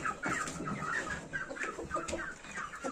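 Chickens cluck continuously, several birds overlapping in busy, close bursts with no talking.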